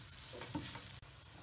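Crushed chilli fries in a pan while preparing a Kerala raw plantain stir-fry, a soft, close sizzle with light stirring scrapes and a brief dip around the middle.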